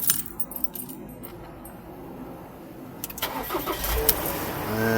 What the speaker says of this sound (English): so just fire up the engine